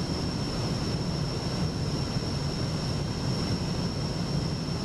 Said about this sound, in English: Very curious to see what the engines sound like now.